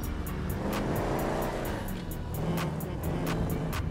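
Car driven on city streets in Grand Theft Auto, a steady engine drone with a rising and falling whine, close and continuous, a few faint ticking noises on top.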